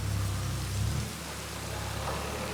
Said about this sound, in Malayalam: ഇപ്പം താനേ മഴ പെയ്യുന്നേ